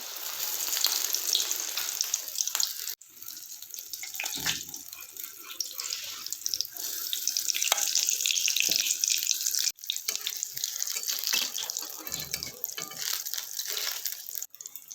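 Pumpkin flower fritters dipped in batter sizzle in hot oil, a continuous bright crackling hiss with a few sharper pops and brief dips, fairly close and without talk.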